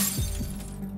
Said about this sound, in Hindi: यहाँ कांच टूटा है